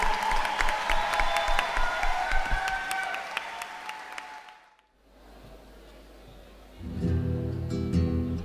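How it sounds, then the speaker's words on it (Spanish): An audience claps and cheers loudly for several seconds at a Peña de los Abrazos gathering, then the applause fades to near silence before low instrumental sound rises. "Fuerte el aplauso, por favor."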